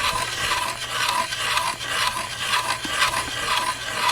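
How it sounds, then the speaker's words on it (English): A hand tool cuts down a green wood tenon for a stool, giving a continuous close rasping, scraping sound in rhythmic strokes about every half second, with no talking. "So that's cutting the tenon down."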